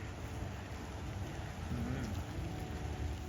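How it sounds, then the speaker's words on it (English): Rain falls steadily on a forested hiking trail at Pink Lake in Gatineau Park, a close, continuous patter on leaves and ground that swells slightly toward the end. "It's starting to rain harder now."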